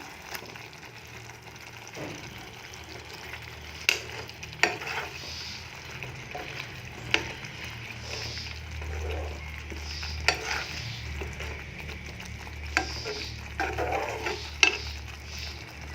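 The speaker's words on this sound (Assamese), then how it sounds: "ইয়াত এতিয়া ভাজি থোৱা পনীৰৰ লাড়ুকেইটা দি দিম।" Fried paneer balls simmer in bubbling curry gravy for paneer kofta curry. A low, continuous bubbling and sizzle runs throughout, broken by scattered clinks and scrapes of a spoon against the pan, fairly quiet and close.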